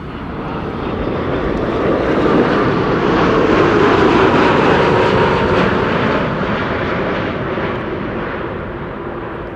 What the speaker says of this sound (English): Air Canada flight 808.